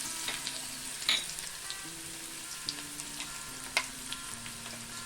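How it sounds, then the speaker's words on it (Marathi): Garlic cloves sizzle in two spoons of hot oil for a Kolambi prawn masala, a steady soft crackle with a few sharper pops and faint stirring taps close by. "दोन चमचे आपण तेल घेतलेलं आहे। ही लसूण घालूया"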